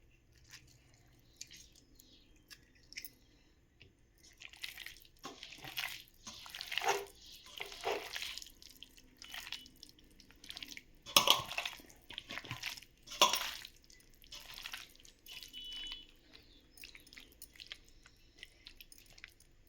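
A lemon wedge is squeezed by hand over marinated chicken for pakodi, giving a run of soft wet squishes and drips in bursts, close and quiet, with no talking.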